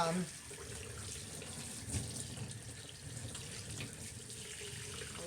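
Running water from a tap rinsing a dog during an at-home bath, a steady splashing hiss that carries on throughout, with a brief bump of handling near the middle and no clear talking.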